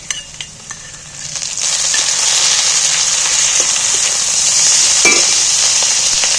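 Ginger and onion paste hits hot oil in a pan with a few light clinks, then settles into a steady, loud sizzle and frying hiss, with occasional stirring scrapes and no talk.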